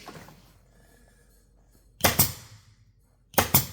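Staples fired from a staple gun, two sharp quick double-snap bursts close by after a quiet stretch, the second a little over a second after the first.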